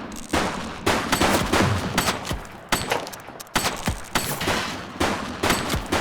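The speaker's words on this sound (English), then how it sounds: "Shots fired!" Rapid bursts of gunfire from a police action game set in a city precinct, loud and close, with repeated volleys and short gaps between them and no talk.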